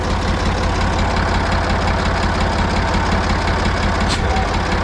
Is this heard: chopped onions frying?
no